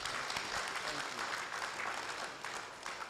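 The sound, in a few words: audience applause at general meeting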